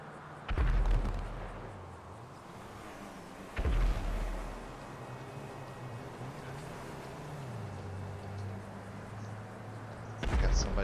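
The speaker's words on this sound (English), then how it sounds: "Somebody's got some fireworks." Fireworks going off in GTA Online, three heavy booming blasts spaced a few seconds apart, each with a rumbling tail, over a steady background of game ambience and engine hum.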